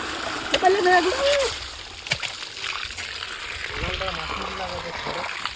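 Water splashing while freshly caught fish, including magur catfish, are washed, a steady close sloshing and trickling under continuous talk.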